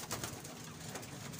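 Gola racing pigeons in Karachi coo softly amid faint background noise, a brief, low, throaty murmur with no talking.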